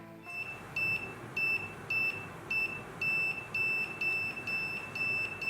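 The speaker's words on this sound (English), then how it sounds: "the LED and also the buzzer is flashing rapidly" An elderly-care wristband prototype's electronic buzzer beeps repeatedly in a steady rhythm on a raised heart rate, short high-pitched tones over a constant background hiss.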